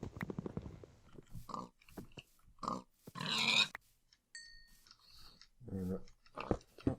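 Pigs grunt in the Kill The Streamer video game, a string of short, close snorts and grunts separated by quiet gaps, with a few thin electronic tones and a low voice mixed in.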